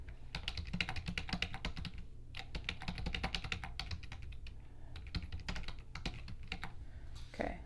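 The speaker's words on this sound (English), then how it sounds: "Okay, so let's type something." Steady typing on a computer keyboard, many quick clicks in bursts with short pauses, close and clear with no voices.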